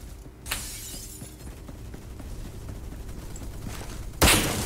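Shotgun fire in Roblox Phantom Forces: two loud, sharp blasts, one early and one near the end, separated by a low steady game background.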